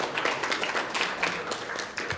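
Wedding guests clap in a short burst of scattered applause, moderately loud and close, lasting about two seconds.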